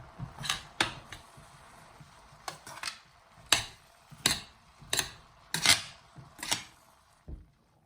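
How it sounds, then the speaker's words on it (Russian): A spoon stirs onion and carrot in a pan, giving a series of sharp, quiet clinks and scrapes spaced irregularly about every half second to a second in an otherwise hushed kitchen. "Помешаю лук с морковкой."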